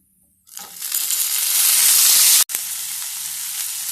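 Vallarai leaves sautéing in a hot pan for kuzhambu, a loud sizzle that rises after a quiet start, cuts out for an instant and then carries on steadily.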